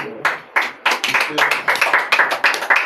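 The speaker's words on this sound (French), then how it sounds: "Acclamons donc très fort pour le roi." A congregation at a prayer service claps in a fairly quick, uneven rhythm, many hands striking together close by.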